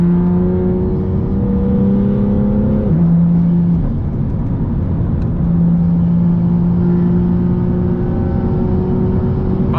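A BMW M car's engine drones steadily while driving, loud and close, with gear shifts stepping the pitch down partway through before a smooth sustained run; no talking.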